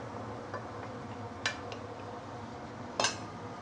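A utensil scrapes and clinks against a pan as braised stingray is stirred, two or three sharp metallic contacts over a soft, steady background sizzle.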